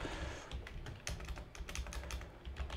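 Quick, uneven clicks of fingers typing a query on a computer keyboard fill the moment, close and fairly quiet, with no talking over them.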